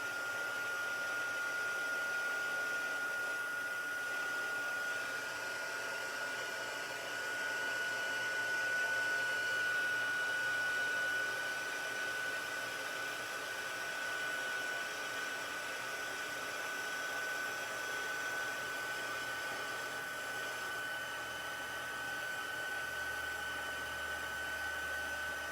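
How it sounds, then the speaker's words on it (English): A heat tool blows continuously to melt embossing powder, giving a steady whooshing hum with a thin constant whine. It runs unbroken at moderate volume for nearly half a minute. "we're just gonna heat emboss it with the heat tool"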